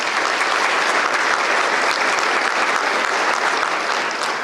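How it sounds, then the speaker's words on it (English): A large audience at a Douglas-Coffee County Chamber of Commerce annual event applauds the Chamber staff, a dense, steady wash of clapping that holds at full strength throughout. "Give these folks a round of applause"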